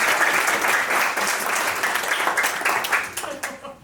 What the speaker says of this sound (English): Give a round of applause to Chad.